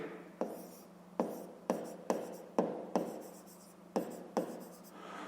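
Pen strokes on notebook paper during a fifth-grade math exercise: a series of about eight sharp, separate scratching taps at a fairly steady rhythm, close and moderately loud, with no talking.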